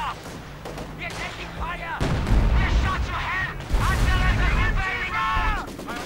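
Panzerwerfer rocket artillery fires in a Company of Heroes 2 battle, a chain of heavy booming launches and impacts with a rumbling low end. A commentator talks over it.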